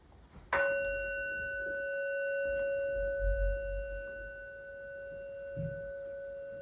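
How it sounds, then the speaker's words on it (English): A meditation bell is struck once at a quiet indoor session, a clear bright strike that rings on as a steady sustained tone, slowly fading over several seconds with faint room noise beneath. "I'm going to ring the bell."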